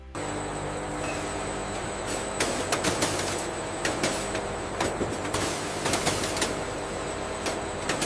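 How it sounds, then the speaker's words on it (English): Bamboo tissue paper logs sliced into individual rolls by a log saw, a steady mechanical factory din with repeated sharp clacks and thumps at close range, no voices. "The saw completes an entire log into individual rolls in under 4 seconds."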